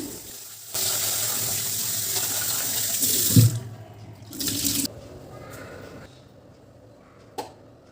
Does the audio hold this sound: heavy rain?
no